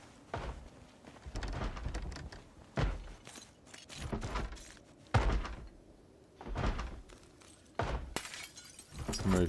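Window glass shattering in Project Zomboid: several sharp, broad crashes of breaking glass recur across the stretch, mixed with heavier thuds, with a faint voice now and then.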